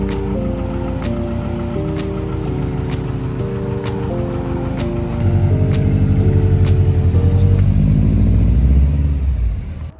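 A Subaru Impreza bugeye with an STI engine swap is driven hard, its boxer engine droning loudly and steadily, surging louder as the revs climb partway through, with faint clicks overhead and no talking.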